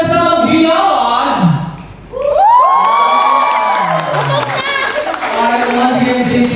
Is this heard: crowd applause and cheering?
yes